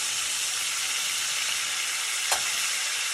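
Veal stock, about four ounces, goes into a hot pan of pork scallopini, bringing up a steady, fairly loud sizzle and hiss with a brief burst of bubbling partway through.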